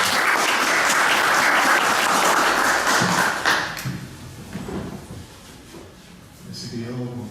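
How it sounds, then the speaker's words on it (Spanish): Loud applause from an academic colloquium audience fills the first few seconds, then fades into scattered claps, thumps and faint voices. "Un fuerte aplauso para los dos."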